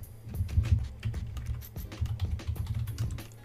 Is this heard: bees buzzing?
no